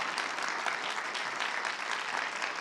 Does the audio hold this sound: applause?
yes